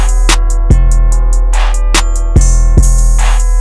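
Loud, booming 808 bass sample with a punchy attack swamping a beat, its deep sustained low end under sharp kick hits and crisp hi-hat ticks, with no talking.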